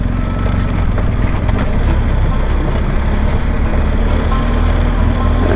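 Motorbike engine pulling away in enduro mode on a solo trail ride, a loud continuous low rumble with wind buffeting, close and steady with no clear rise or break.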